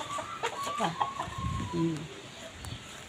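Backyard chickens cluck in short choppy bursts, close and moderately loud, with a brief rising call in the middle and faint background noise.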